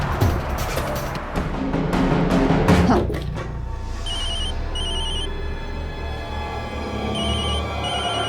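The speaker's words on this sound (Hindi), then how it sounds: "अरे कब से तेरा फोन बज रहा है?" A phone rings in a tense TV drama scene, sounding as repeated bright, short electronic bursts after a noisy, busy opening with music and movement.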